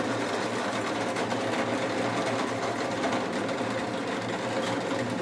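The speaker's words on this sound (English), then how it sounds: "we've installed a countersinking bit into here" A drill press with a countersinking bit cuts into a ukulele fretboard, a constant motor whine with a buzzing mechanical hum that stays loud and steady throughout, with no speech.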